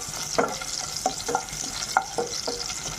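Chopped garlic cloves and red chilies sizzle in hot ghee for a dal fry tempering: a constant bright hiss, close and loud, with several soft spoon clicks and stirring knocks spaced through it.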